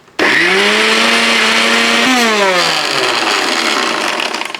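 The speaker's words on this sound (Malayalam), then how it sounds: "ഇനി ഇത് രണ്ടും കൂടെ" A mixer grinder kicks in abruptly and runs loud and steady, whirring through coconut, chili and fried mango, its motor pitch sagging slightly as the load grinds down.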